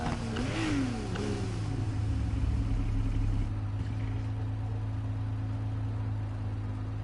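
Car engine in the Need for Speed Heat racing game with a Skyline engine swap, revving up and dropping back early on, then settling into a steady idle drone for the rest.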